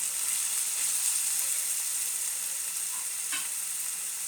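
Salted pastry filling frying in a pan while being stirred, a steady close sizzle with a brief utensil clink partway through.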